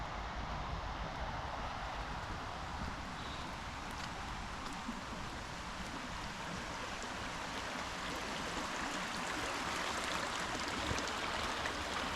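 A creek in a western Pennsylvania state park flowing steadily, a broad even wash of running water with faint rustling, held at the same level throughout with no voices.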